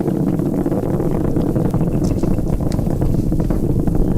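Onboard roar of a Falcon Heavy in flight, all 27 Merlin engines firing during ascent past max Q: a dense, steady low rumble with buffeting, loud and unbroken throughout.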